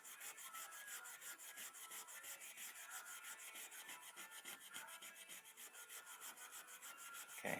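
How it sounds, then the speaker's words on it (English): Brass wool scrubs back and forth over the rusty blade of a vintage WW2-era Remington PAL RH36 hunter knife, a steady rhythmic rasping close up, continuous strokes with no talking. "we're just going to hit this with some brass wool. See how much rust we can take off."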